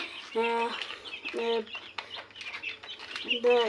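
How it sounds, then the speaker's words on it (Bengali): Young chicks in a poultry pen, with repeated high peeps and chirps near the mic, some in quick rising bursts, under intermittent talking. "তো আমার এখানে মুরগির বাচ্চাগুলো অনেক সুস্থ আছে"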